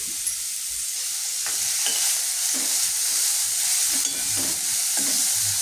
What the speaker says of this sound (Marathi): भाज्या छान अशा परतल्या ना की आपे छान लागतात, म्हणून ह्या भाज्या सुरुवातीला परतून घ्यायच्या.